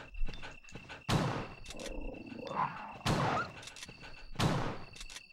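Attacking dogs in the Resident Evil video game, with repeated loud, harsh bursts of snarling and growling close up amid game noise and combat sounds.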